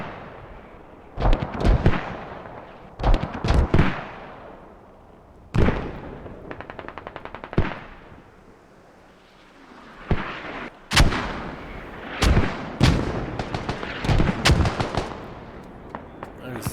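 Mortar and gunfire exchange in the Squad video game, a mortar duel near a forward base: repeated sharp booming impacts and rapid bursts come in clusters, some loud and close, others trailing off, with brief quieter gaps between volleys.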